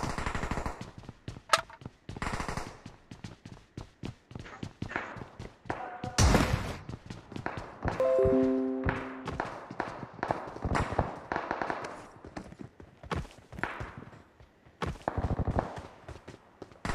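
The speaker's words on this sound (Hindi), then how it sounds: "बहुत फायरिंग हो रही है यार" Gunfire in PUBG Mobile rings out in scattered bursts of shots and sharp cracks, some close and loud, others more distant, with a few tonal game sounds mixed in and a little speech.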